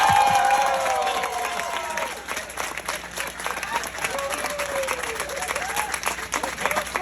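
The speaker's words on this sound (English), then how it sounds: "Can we get a round of applause?" Wedding guests applaud during a best man speech. The steady clapping is moderately soft and mixed with a few voices and cheers, easing off midway but continuing to the end.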